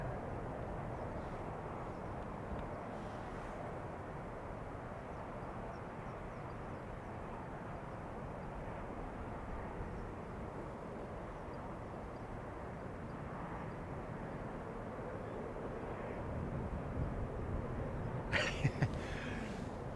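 A 26-year-old Airbus A340 airliner at Schiphol Airport, heard as a steady, distant jet roar that swells slightly toward the end, with no talking.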